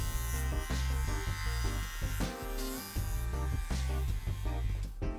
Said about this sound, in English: Really only essential to shave two stripes either side to correspond where the tape's gonna go.